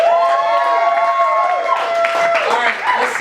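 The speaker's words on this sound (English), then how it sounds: "Give yourselves a round of applause." Studio audience clapping and cheering at the start of a comedy news show, loud close crowd noise with whoops and tonal voices riding over the applause.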